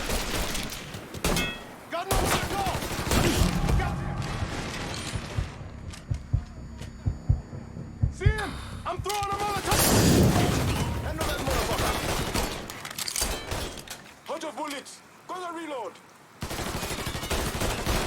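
Bursts of gunfire crackle in the video game Mafia 3 Definitive Edition, with repeated volleys and single shots scattered between shouted voices, loud and close.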